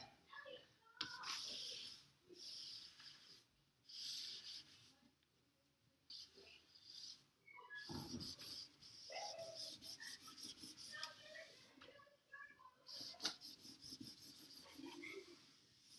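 Damp and dry paper towels wiping paint off a painted wall: faint, close rubbing and scrubbing strokes in uneven bursts, separated by quiet pauses.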